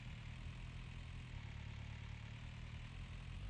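A big tractor in Farming Simulator 19 idles with a steady low rumble, even and continuous, fairly quiet and alone without talk.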